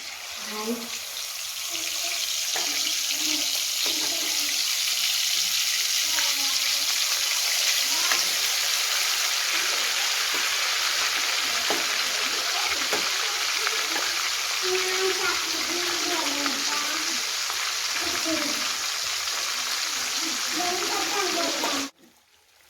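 A continuous sizzling hiss of food frying in hot oil, speckled with small pops and crackles. It stays steady throughout, then cuts off at the end.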